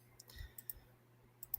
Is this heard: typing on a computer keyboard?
yes